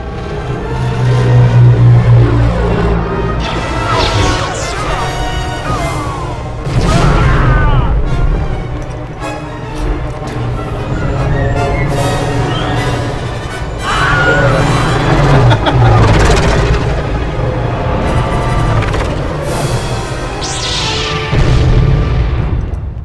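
Loud, rumbling booms and blasts from Star Wars: The Force Unleashed roll on continuously, with heavy low-end impacts and a dense, chaotic mix throughout.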